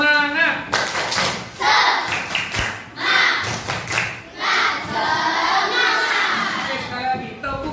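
Class 5D schoolchildren chant and clap together in a classroom spirit-clap routine, loud and close, with bursts of sharp rhythmic claps between shouted group chanting and a teacher's voice leading them.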